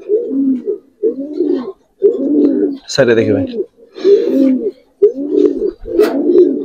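Giribaz and coloured fancy pigeons coo loudly and close in a run of rhythmic, throaty bursts separated by short pauses, while someone speaks briefly between the calls.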